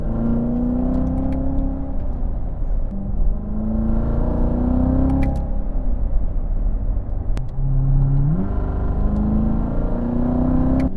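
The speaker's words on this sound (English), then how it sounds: "They have a distinct, amazing sound to them. Here we go. Roll into the throttle." A 2018 Chevrolet Corvette C7 Z06 engine pulls loud and close from inside the car, its deep drone rising in pitch through gear changes with a steady rumble throughout.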